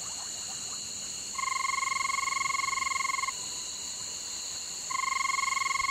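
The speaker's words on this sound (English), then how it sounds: "the banded rubber frog" A banded rubber frog gives a long, steady, high-pitched trill in two separate bursts, each lasting a couple of seconds, over a constant background hum.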